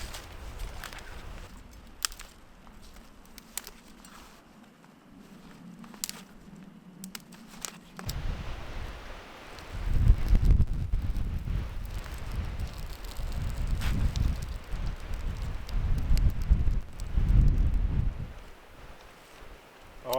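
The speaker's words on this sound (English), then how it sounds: "The wind is just relentless right now." Strong, relentless wind at a wilderness campsite, a steady low roar with gusty surges that swell louder in the second half, plus faint scattered rustling and tapping close by.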